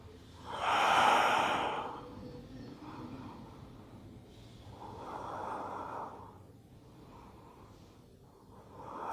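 Slow, deep breaths during a yoga flow, one strong rushing inhale-exhale followed by softer, longer breaths, close and alone with no talk.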